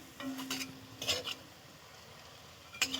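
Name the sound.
frying bottle gourd leaf fritters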